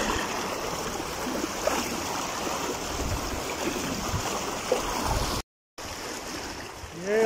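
River water streaming steadily around the legs of someone wading across a shallow river, with a continuous close rushing wash and a brief break in the sound near the end.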